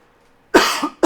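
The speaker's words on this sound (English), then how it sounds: "Sorry, I need to cough again." A single sharp cough followed by a second shorter cough, close and loud, with no talk.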